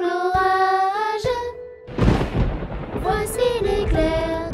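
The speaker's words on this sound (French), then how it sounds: "Entends-tu le tonnerre?" Thunder rumbles through a French children's song about a shepherdess and an approaching storm, a loud broadband roll rising midway between sung melodic lines with music continuing around it.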